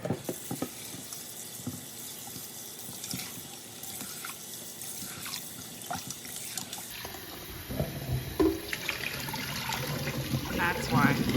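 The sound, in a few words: tap water running while rinsing meat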